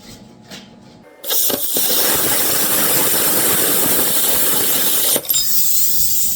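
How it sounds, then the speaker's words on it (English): A plasma cutter slicing through metal in a home garage during a 1946 Chevy rat rod build, a loud steady hissing roar that starts abruptly, holds for about four seconds, then cuts off. "Yeah, get a plasma cutter, man."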